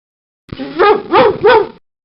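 Cartoon dog barking in a toy hospital educational video game, three clear, close barks in quick succession against a silent background.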